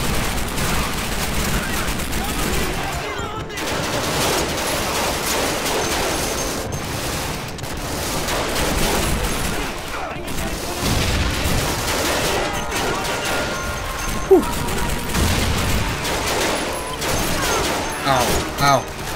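Call of Duty 2 gunfire, repeated bursts and single shots cracking amid dense battlefield noise, sustained and fairly loud, with a player talking over parts of it.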